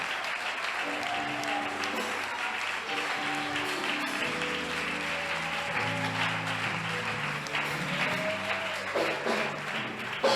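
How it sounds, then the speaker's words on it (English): A church congregation claps steadily during a testimony service while organ or keyboard chords sustain underneath, and the applause stays continuous and fairly loud throughout. "Will you clap hands for your mother?"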